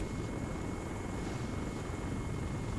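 Helicopter in the military video game Arma 3 (RHS mod), a steady, dense rotor and engine roar held at even loudness throughout with no talk.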